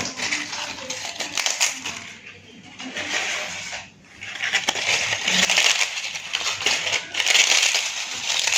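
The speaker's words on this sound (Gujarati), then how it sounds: "જે આપણે પાપડને ફ્રાય કર્યા છે એ પાપડને પણ આપણે આમાં ટુકડા કરી દઈશું આ રીતે" Fried papad is broken into pieces over roasted puffed rice for a Diwali snack, giving loud, close, repeated crisp cracking and crunching in irregular bursts with a short lull midway, and no talking.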